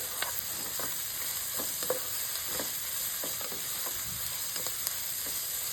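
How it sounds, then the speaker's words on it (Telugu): Onions fry in a pan for a Telugu egg fry, giving a constant quiet sizzle with light scattered stirring clicks and scrapes, close by and without any talking. "ఆనియన్స్ని మనం పచ్చివాసన పోయి లైట్గా కలర్ చేంజ్ అయ్యేంత వరకు వేయించుకుంటే"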